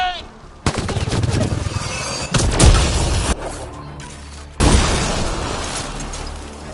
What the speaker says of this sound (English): Watch the grenade!